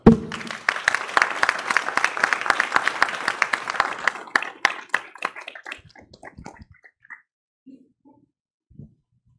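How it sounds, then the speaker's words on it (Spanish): An audience applauds at a panel on risk management and resilient infrastructure, with dense clapping that thins after about four seconds into scattered individual claps before fading into quiet. "Un aplauso, por favor."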